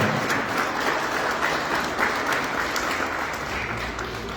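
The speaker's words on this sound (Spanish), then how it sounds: "Brindemos más fuerte las palmas al coro y a su director" An audience at a forum applauds a choir and its director, with dense, sustained clapping throughout, loud and even with no voices over it.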